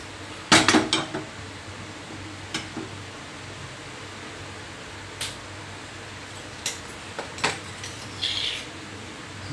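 A metal ladle is set on a kitchen stove for a Tamil egg omelette, giving a sharp metallic clank followed by a few lighter clinks and taps spread over a quiet room.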